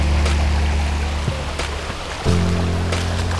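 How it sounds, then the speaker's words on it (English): Small New England creek flowing over rocks into a little pool, a steady close wash of rushing water with a low rumble and occasional splashes, no voices. "look at this beautiful creek, guys."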